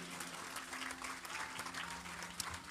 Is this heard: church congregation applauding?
yes